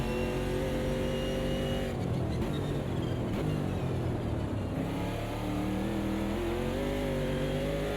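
A Porsche race car in the Automobilista 2 racing game, its engine droning loud and close, dipping briefly as it shifts or lifts, then climbing steadily in pitch as it accelerates again.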